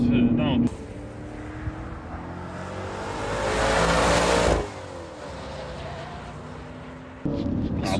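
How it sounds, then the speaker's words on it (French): A Maserati Levante Trofeo SUV's engine swells as the car accelerates, the roar building to a loud peak and then easing off, heard from inside with voices talking before and after. "Alors j'adore le bruit, la sonorité."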